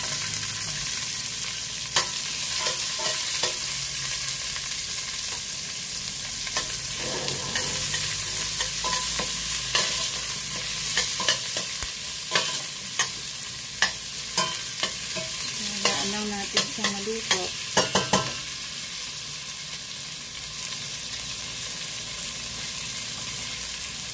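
Onions frying in a pan for salmon sinigang with miso, a steady close sizzle broken by scattered scrapes and clacks of stirring.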